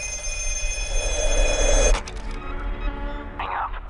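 An old black telephone from The Black Phone film trailer rings loudly and steadily for about two seconds, then stops abruptly, leaving a faint hum and a brief later sound, with no talk.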